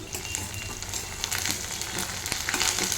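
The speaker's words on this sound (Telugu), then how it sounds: "ఉల్లిపాయ కొంచెం ఫ్రై అవ్వాలి" Onion pieces, mustard seeds, cumin and curry leaves fry together in a pan of oil, giving a dense, close, continuous sizzle with small crackles and pops throughout.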